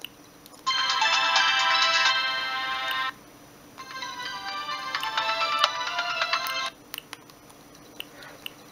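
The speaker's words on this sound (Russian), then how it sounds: "Полифонические встроенные рингтоны." Built-in polyphonic ringtone from a Siemens CT65 mobile phone, a T-Mobile variant of the C65, plays two loud bright melodic phrases separated by a short pause, heard alone.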